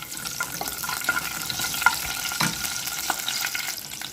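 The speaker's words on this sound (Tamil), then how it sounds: "இப்போ இது நல்லா ஆயில் ஹீட் ஆகக்குள்ள நான் கறி லீவ்ஸை போட்டுக்கிறேன்" Curry leaves crackle and sizzle in hot oil for bitter gourd curry, a steady frying hiss with small pops and stirring clinks, close and moderately loud, no voices.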